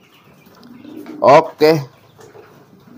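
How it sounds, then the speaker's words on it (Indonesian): A racing pigeon coos softly and low in the background while a person speaks briefly nearby. "Yang merpati balap, ini merpati balap nih."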